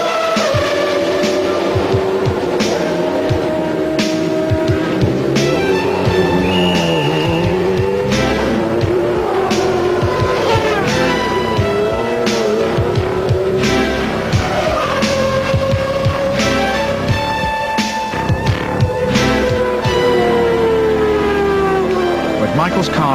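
McLaren race car driving on a track, engine pitch rising and falling through gear changes with intermittent tire squeal, loud and close, with voices talking over it.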